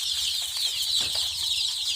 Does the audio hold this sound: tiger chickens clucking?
yes